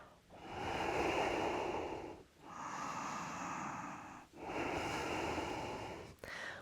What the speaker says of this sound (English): Taking 3 more breaths.